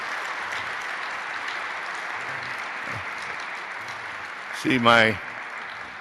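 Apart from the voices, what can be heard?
applause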